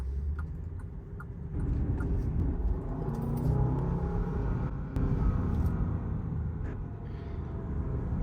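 A 2022 Bentley Flying Spur's engine rumbles and builds steadily as the car accelerates, heard from inside with a continuous low roar and a few faint ticks.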